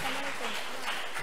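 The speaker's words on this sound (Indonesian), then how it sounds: "Iya, tepuk tangan regu A" Clapping for a team at a women's Quran quiz competition in South Sumatra, a moderate spread of hands under a speaking voice that carries over it.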